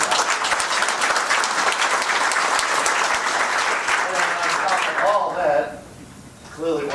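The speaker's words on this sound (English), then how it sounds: "So a round of applause." An audience at a company town hall meeting applauds loudly and densely for about five seconds, then the clapping stops and a voice speaks.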